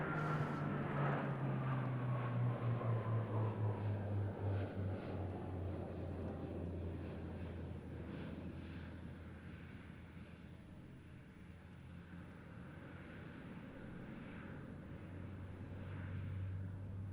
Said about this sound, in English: prepare to be amazed as the Spartan performs a